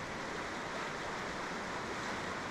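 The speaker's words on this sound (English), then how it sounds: "you can't canoe up it because of all the rapids, like this one here" River rapids rush toward Lake Superior, a steady, broadband roar of churning water that stays constant and fairly distant-sounding, with no voices.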